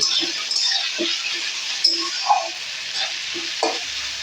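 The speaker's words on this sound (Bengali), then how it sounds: "এটাকেও আমি খুব ভালো করে নেড়ে কেড়ে দেব" Ginger and garlic frying in a pan for Bengali cabbage curry, with a steady hiss and sizzle and several soft knocks of a spatula being stirred through it.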